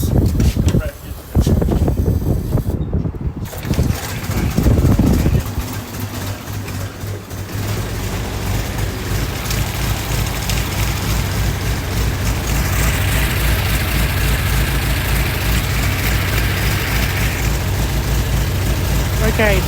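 A Ford Model T touring car engine is hand-cranked and catches, then settles into a steady, loud low idle that runs on continuously, with someone speaking over the start.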